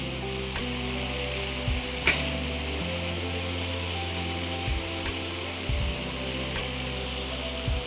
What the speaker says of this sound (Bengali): এইবার 200 চিকেনের জন্য আমি একটা ছোট্ট পেঁয়াজ পাতলা করে স্লাইস করা দিলাম।